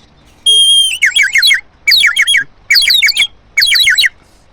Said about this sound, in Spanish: ve el gorrión de ahí